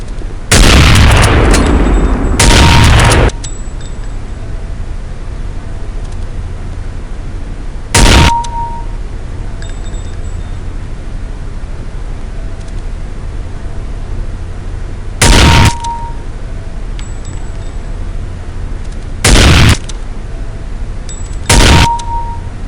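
Sniper rifle fire at firing range targets in a video game: six very loud, sharp booming shots, two close together at the start and the rest spaced several seconds apart, some followed by a faint metallic ding from the struck target.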